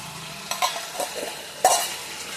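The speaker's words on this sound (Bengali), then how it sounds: "এখানে বেগুন দিয়ে ঝিমা শাক ভাজা করলাম" Jhima greens with brinjal are stir-fried in a pan, giving a soft continuous sizzle broken by a few sharp scrapes and clinks of the spatula, close by and without talk.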